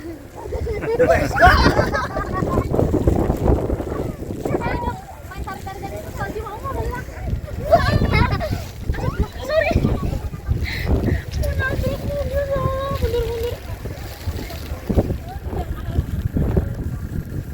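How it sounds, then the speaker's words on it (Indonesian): Strong wind with blowing snow buffets the microphone in loud, sustained gusts at about -3 degrees in Perisher Valley in the Snowy Mountains, Australia, with a voice talking at moments underneath the roar. "nggak reda-reda ini anginnya sama hujan saljunya, semakin deras, semakin kenceng anginnya"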